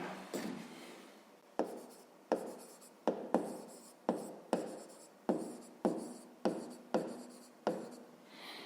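Pen strokes writing digits by hand on paper, heard as about a dozen close, distinct scratchy strokes in a steady rhythm, with no talk.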